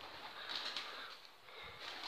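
An indoor pigeon in an abandoned mental asylum office coos faintly and flaps its wings against a steady hiss, with no voices present.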